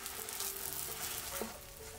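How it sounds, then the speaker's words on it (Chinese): A scallion pancake fries over medium-low heat in a preheated cast iron pan brushed with a thin layer of oil, giving a steady, close, soft sizzle with no talking. "煎饼的时候用中小火"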